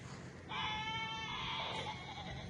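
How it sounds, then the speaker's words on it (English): A single goat lets out a long, loud, wavering bleat close by in a garden setting, standing out over quiet background noise. "This is an intense goat."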